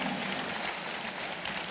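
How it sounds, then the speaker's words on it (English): An audience at a youth festival event claps steadily for the volunteers, a dense, even wash of applause with no breaks and no voices. "So let us give a big round of applause for all the volunteers"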